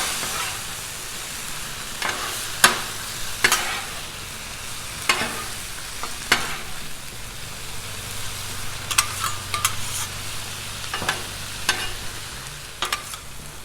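Taco meat sizzles on a Blackstone flat-top griddle, a steady moderate crackle broken by repeated sharp scrapes and clacks of a spatula mixing it.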